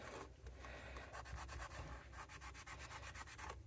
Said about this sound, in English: we'll just go for a bit of this sort of emery cloth, because it's underneath the scale